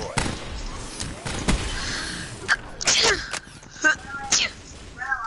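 A single sharp sneeze bursts out midway through, surrounded by scattered thumps, knocks and background noise.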